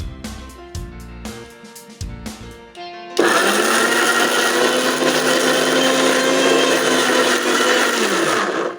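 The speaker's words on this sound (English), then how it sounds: "Now we are going to start the blender and we are going to mash it." A few short bumps and knocks, then a kitchen blender starts and mashes mushrooms with a loud, steady whirring grind until it winds down at the end.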